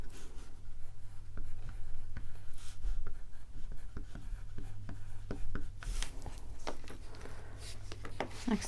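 Crayola oil pastel or crayon scratching across paper in short, quiet strokes, close and steady, with faint rubbing between marks and no talk over it.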